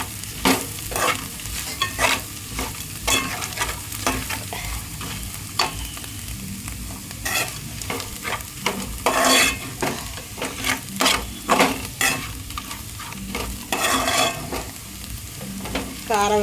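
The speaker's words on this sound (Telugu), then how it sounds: "కారం వేసి ఇలా తిప్పేసుకోవాలి." Bitter gourd curry stirred in a pan after chili powder and garlic go in, a steady sizzle of frying with repeated scraping strokes of a spoon against the pan, close and continuous, no one talking.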